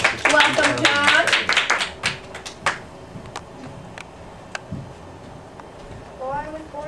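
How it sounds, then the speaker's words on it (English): A small group claps in a room to welcome a costumed presenter, a short burst of close, uneven hand claps fading into a few scattered claps, with talking mixed in. "Let's give him a round of applause."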